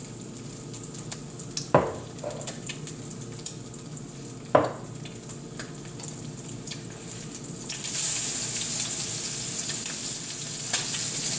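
Eggs frying in bacon grease in a pan, a steady close sizzle with a couple of sharp pops and scrapes, the hiss swelling louder toward the end.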